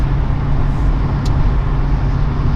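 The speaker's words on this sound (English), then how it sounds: "it's a fairly empty day on the motorway" A car drives on a fairly empty motorway in damp conditions after earlier rain, giving a loud, steady interior road rumble and engine drone that holds evenly throughout.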